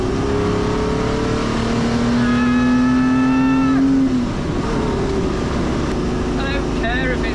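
A Ferrari 250 SWB Revival built by GTO Engineering drives along, its engine a loud continuous drone with a rising rev that drops off midway as the pitch shifts, then settles back.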